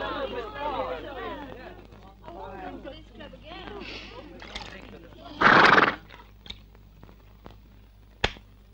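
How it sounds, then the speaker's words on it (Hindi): A horse whinnies loudly and close by, its call rising and falling, then hooves clop in a few scattered knocks as it comes indoors, broken by a brief loud rush of noise. "उसका घोड़ा भी अंदर आ गया"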